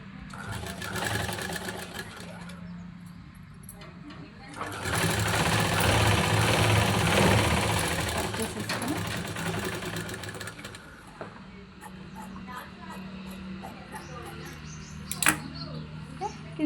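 A sewing machine runs in steady bursts while stitching the side seam of a saree petticoat, with a long loud continuous run in the middle and quieter stretches before and after.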